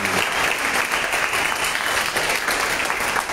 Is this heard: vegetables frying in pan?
no